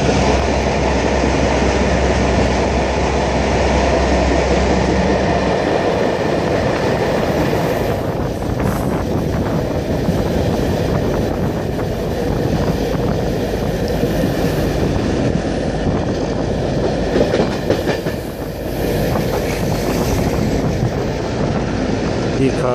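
The Sivas-Divriği passenger (mail) train rolls along the rails with a continuous loud rumble and clatter, heard from on board and steady throughout, with wind noise and no clear speech.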